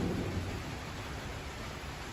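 Rain falling outside behind a house, a steady, close, hissing wash of noise that holds evenly for about two seconds.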